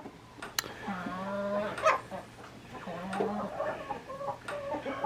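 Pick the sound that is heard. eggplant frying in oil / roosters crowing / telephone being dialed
roosters crowing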